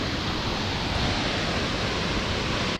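River water pours over a dam on the Eramosa River at Rockwood Conservation Area, a constant broadband rushing roar, loud and near, with no talking.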